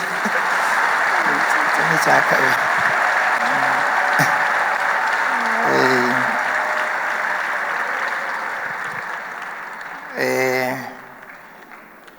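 A church congregation claps in sustained, dense applause filling the room, with a few voices speaking over it before it fades toward the end.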